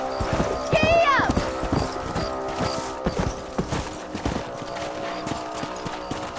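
A horse in Red Dead Redemption clops along at a steady trot or gallop on a ranch, with a whinny near the start and creaking tack, while a person speaks over the hoofbeats.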